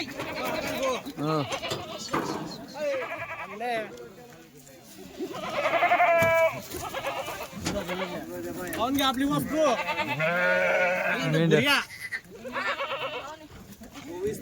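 Several Kathiawari goats bleat repeatedly, wavering cries coming close and loud in bursts, mixed with someone talking between and over them.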